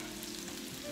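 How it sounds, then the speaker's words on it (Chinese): Minced garlic and dried chili flakes hit three big spoonfuls of hot oil in a cast-iron pan, a brief, loud, continuous close-up sizzle. "然后放入三大勺油，紧接着放入蒜末"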